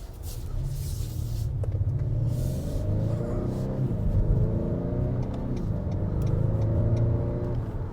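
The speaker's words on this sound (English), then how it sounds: "What you're hearing under that hood is a 2-liter direct injected turbo 4-cylinder engine" A 2019 Acura RDX's 2-liter direct-injected turbo four-cylinder pulls away from a stop, a steady low rumble with rising and falling engine tones climbing through the gears, heard from inside the cabin.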